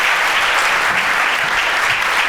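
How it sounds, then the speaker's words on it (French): Loud, dense applause from a sizable audience at an award ceremony, steady and sustained from start to finish with no talking. "on peut encore applaudir Claudia Bigoni."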